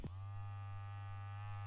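A Sonia Kashuk sonic face brush switched on at its highest setting gives a steady low electric buzz with a faint whine, after a brief click at the start, close and alone.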